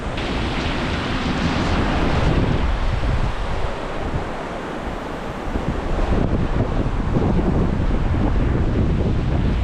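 Strong wind buffets the microphone over rolling sea waves in the middle of the North Sea on a bitterly cold day, a steady loud roar of gusts and surf that continues throughout.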